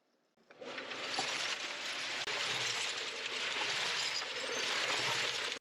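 A cement mixer tumbles broken glass with river sand to make sea glass, a loud, steady churning rattle of grinding and clinking shards that starts abruptly and runs continuously without talk.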